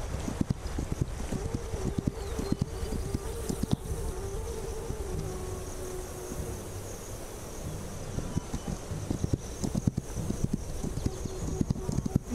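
Horse hooves clip-clop in the video game This Land Is My Land, a steady, close run of hoofbeats over a constant buzz of insects.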